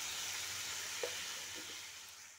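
Potatoes seasoned with turmeric fry in a pan, giving a steady, soft, continuous sizzle with a couple of faint stirring clicks partway through, alone and fairly quiet.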